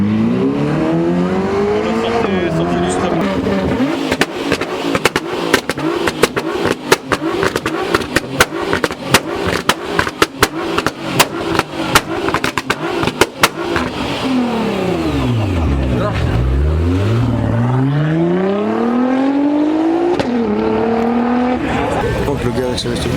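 Lamborghini Huracan STO doing repeated launch-control starts, loud high-revving engine sweeping up through the gears with sharp crackling shifts, then passing close by with a falling pitch and revving again; people talk over it.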